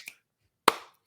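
Two sharp claps or snaps in a gospel-style song, the first small and the second loud and crisp, with a short silence between them.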